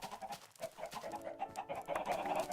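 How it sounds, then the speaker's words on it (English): Chickens in the video game Harmonious cluck in a steady, busy barnyard chorus of short overlapping calls at moderate volume, with no talk over them. "We've got chickens."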